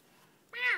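A single drawn-out meow, loud and close, rising then falling in pitch, following a brief quiet pause; it sounds like a person imitating a cat.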